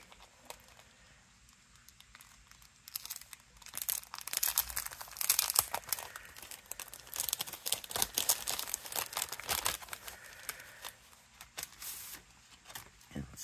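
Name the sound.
die cutting a stamp with a Spellbinders die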